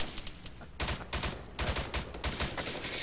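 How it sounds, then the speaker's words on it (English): Gunfire from the Arma 3 military video game during a hill-climbing mission with a Hemmt truck: rapid bursts of automatic fire and sharp shots crackle in quick irregular clusters, fairly faint and with no talking. "Why are we all firing in the open?"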